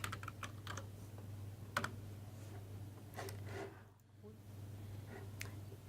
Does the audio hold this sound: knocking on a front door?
no